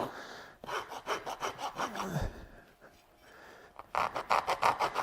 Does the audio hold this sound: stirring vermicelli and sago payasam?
no